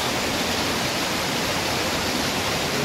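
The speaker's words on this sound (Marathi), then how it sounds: "हा बघा आपला मार्लेश्वर धबधबा." Marleshwar waterfall in the Konkan hills, heard as a steady, loud broadband roar of falling water, continuous and unbroken throughout with no voices.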